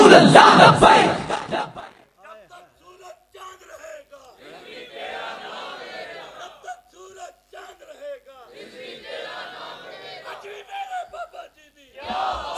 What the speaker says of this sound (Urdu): یہ جیسے بابا جی کے نام پہ نعرے لگا رہے ہیں نا